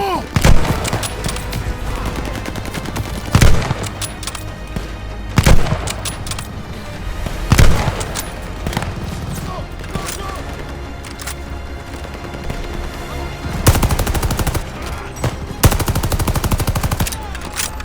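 In the Call of Duty Vanguard video game, machine guns fire in bursts amid a dense battle, with several sharp, heavy booms standing out over continuous rattling gunfire and no clear voices.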